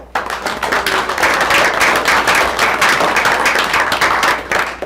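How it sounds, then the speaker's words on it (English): An audience at an agricultural lands talk gives sustained, loud applause for the speakers, a continuous rattle of many clapping hands that holds steady for several seconds before tapering at the end. "I want to give one last round of applause for our speakers, Heidi, Ashley, and Jay"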